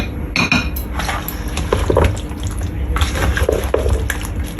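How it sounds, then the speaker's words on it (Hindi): Vegetables are added to chicken and mixed in a dish for an oven-baked roast, with close, continuous clinking of utensil against dish and wet shifting sounds, brisk and uneven. "वेजिटेबल डालते हैं, इनको अच्छी तरह मिक्स करती हूँ।"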